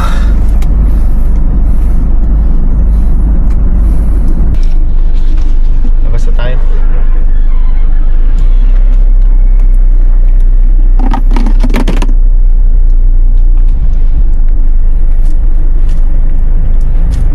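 A delivery vehicle loaded with eggs cruises along a highway, its loud low road rumble steady throughout, with brief rattles and scrapes and someone talking over it at times.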